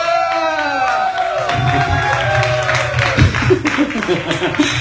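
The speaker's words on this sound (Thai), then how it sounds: "ปรบมือ" An audience at a live comedy-music show claps and cheers loudly, a dense crowd din with whoops and raised voices running through it, fairly close.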